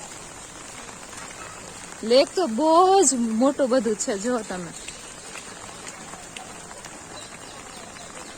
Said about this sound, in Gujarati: વરસાદે છેલ્લે છેલ્લે હેરાન કર્યા છે અમને, આખો દિવસ નો નીકળ્યો પણ અત્યારે આવી ગયો છે